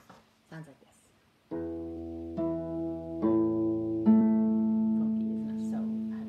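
A harp plays phrase four of a reel as sparse plucked chords, each ringing out and overlapping as new notes are added, close and moderately soft after a few quiet opening taps.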